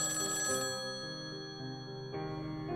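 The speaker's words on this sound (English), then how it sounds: "The telephone rang." Telephone ringing with a continuous bright electronic bell tone during a spooky story, a steady ring alone over soft background music.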